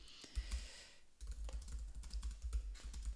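Rapid clicking of a computer keyboard as someone types, a dense run of keystrokes with a brief pause near the start, close and fairly quiet.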